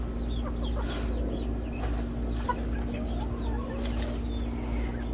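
A backyard flock of chickens clucks softly and intermittently over a steady low hum, with scattered bird calls in the background and no talking.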